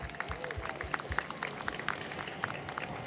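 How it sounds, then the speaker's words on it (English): A crowd at an Immigrant Heritage Month kick-off applauds the volunteers in red shirts: fairly faint, scattered clapping mixed with crowd murmur that continues steadily throughout. "let's give the folks in the red shirts a big round of applause."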